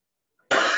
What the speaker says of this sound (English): Sorry, I'm having a little bit of cough.